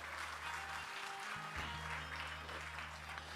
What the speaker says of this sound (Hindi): तालियां बजाओ इस बात के लिए